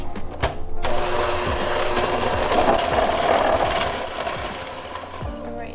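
An electric hand mixer creams butter with brown and white sugar in a bowl for gluten-free carrot cake whoopie pies. The motor whirs steadily and closely, with gritty scraping from the beaters, after a couple of brief knocks at the start.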